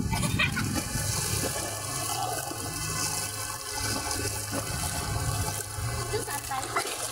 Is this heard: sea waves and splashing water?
yes